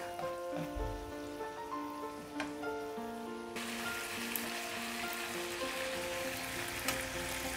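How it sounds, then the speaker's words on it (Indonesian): Butter melting with garlic in a hot pan, a steady close sizzle and crackle with a brighter, denser hiss building partway through, no voices. "Biarkan butternya leleh dan aroma dari bawang putihnya juga keluar."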